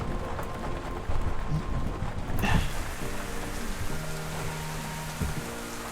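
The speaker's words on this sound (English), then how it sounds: "I don't think it ever stops raining here." Steady rain falls on nearby surfaces, a dense hiss of drops with a sudden louder crackle partway through, while faint tonal background sounds drift underneath.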